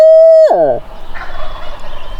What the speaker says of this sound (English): There he's gobbling.